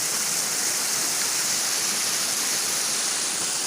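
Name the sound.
water flowing in an irrigation canal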